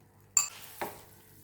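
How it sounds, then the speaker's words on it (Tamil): Beaten egg with pepper poured onto a buttered tawa, giving a sudden close splash and hiss that fades, followed by a second shorter burst of sizzle, with quiet kitchen background and no talk. "தவாவில் ஒரு 1/4 ஸ்பூன் பட்டர் போட்டு நம்ம அடித்து வச்சுருக்க முட்டையை ஒரு நல்லா மிக்ஸ் பண்ணி ஊற்றிடலாம்."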